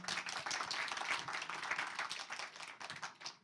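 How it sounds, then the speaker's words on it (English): Audience applause at a panel discussion, a dense patter of many hands clapping together, steady and moderately distant, tapering slightly toward the end. "could you all please give a round of applause to the panelists here today?"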